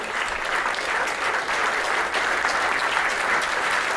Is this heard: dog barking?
no